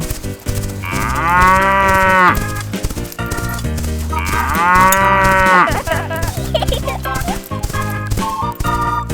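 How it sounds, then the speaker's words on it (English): A cow moos twice in long, drawn-out bellows, loud and close, over continuous cheerful background music. "Cow."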